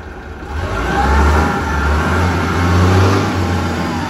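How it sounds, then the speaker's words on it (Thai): A diesel engine of a Doosan 7-ton forklift with automatic transmission runs loudly and steadily close by, a low rumbling idle that swells slightly in intensity. "วันนี้พามาแนะนำรถโฟล์คลิฟนะคะ ยก 7 ตันคันนี้จะเป็นดูซานรุ่น D60G ค่ะ"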